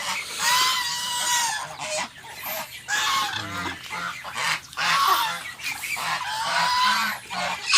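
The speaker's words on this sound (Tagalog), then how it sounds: "gansa, tsaka itik" Loud honking geese mixed with quacking ducks, a busy flock calling repeatedly and overlapping, close by with no talking.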